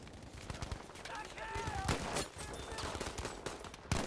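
Gunfire in the video game Battlefield V: scattered sharp shots and bursts of automatic fire, some near and loud, others farther off, with faint voices in the background.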